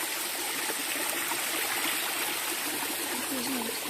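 Clean stream water flowing in a steady, close rush with a light trickle and gurgle, constant for about four seconds and without talking.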